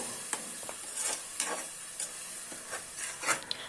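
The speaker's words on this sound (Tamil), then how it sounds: "க்ரீன் மசாலா போட்டு நல்லா ஃப்ரை பண்ணியாச்சு" Green masala of coriander and mint frying in oil for a chicken dum biryani gives a steady close sizzle, broken by repeated scraping stirs of a spoon in the pot, with no voices.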